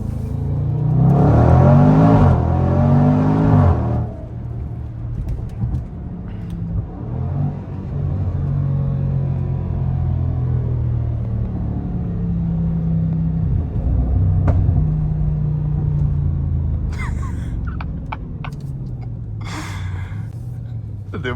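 A Range Rover SVR engine revs and rumbles loudly with a voice over it, then later a few sharp backfire pops near the end.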